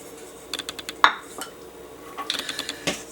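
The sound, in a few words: mixing dry scone ingredients together in a bowl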